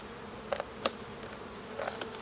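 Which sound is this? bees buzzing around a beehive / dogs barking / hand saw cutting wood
bees buzzing around a beehive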